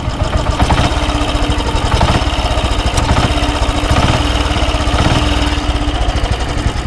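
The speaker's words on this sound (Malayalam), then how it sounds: "അപ്പോൾ നമ്മൾ എഞ്ചിൻ ഈ ത്രോട്ടിൽ കൊടുത്തതാക്കുന്ന സമയത്ത് നമ്മൾ" Engine of a Royal Enfield Electra 5-speed self-start motorcycle running with throttle applied, a steady close, loud thumping drone with slight surges and no voices.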